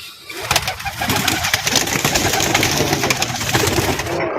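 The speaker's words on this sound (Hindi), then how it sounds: "एक कबूतरी मैंने पकड़ी है" Pigeons coo and flutter close by in a busy, continuous stretch, with a rough mechanical hum running underneath.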